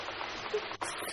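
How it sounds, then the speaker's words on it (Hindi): Heavy rain pours in a constant dense roar with a brief dip near the end, loud and close, and no voices. "ऐसी बारिश तो मैंने अपनी जिंदगी में कभी भी नहीं देखी।"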